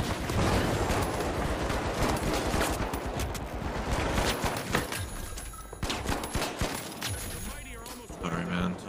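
Video game gunfire rattles in dense, overlapping bursts of rapid shots, loud and near, with a brief lull before more firing and voices talking over the action.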